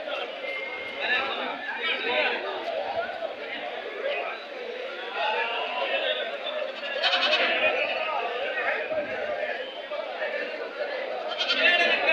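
Sheep and goats bleating among dense crowd chatter at the Kyatsandra goat and sheep market, a continuous busy din with people talking throughout and animal calls mixed into the noise.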